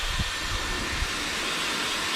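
A hairdryer on full blast heating a Honda Accord rear window visor before painting, a loud, steady broadband rushing hiss throughout with a few faint low thumps, close up and alone.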